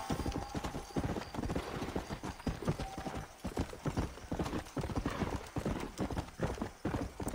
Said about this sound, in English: Come on, horsey. It's the horse.